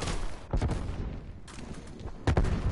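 A thrown grenade goes off in Black Ops Cold War as a couple of sharp, punchy blasts that stand out over the steady background of in-game gunfire.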